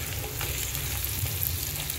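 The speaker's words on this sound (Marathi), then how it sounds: "हे वांगे व मसाला आपल्याला व्यवस्थित मिक्स करून घ्यायचा आहे" Stuffed eggplant is stirred with spice masala in a pan while making pickle, giving a close, steady sizzle with soft scraping, and no voices.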